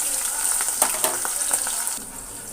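Green chillies and onions frying in hot oil with tempered spices give a continuous close sizzle, broken by scraping stirs, which eases and thins out toward the end.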